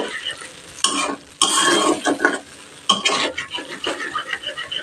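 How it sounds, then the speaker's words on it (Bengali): Cashew paste stir-fried over low to medium heat in a pan, with a steady sizzle broken by several loud bursts of scraping and stirring against the pan, no voices present. "লো টু মিডিয়াম হিটে কষিয়ে নেব কাজু বাটা।"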